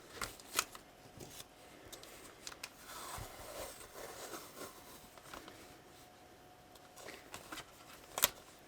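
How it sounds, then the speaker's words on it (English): Scissors trimming the edge of a planner page, a series of quiet crisp snips and paper rustles scattered over several seconds, close and soft, with no talking. "let's try and trim that off."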